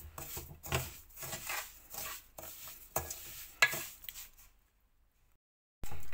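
A pan of makhandi halwa with sugar added is stirred over a low flame, with a series of rubbing, scraping strokes. A pause follows, then a sudden burst of noise at the very end.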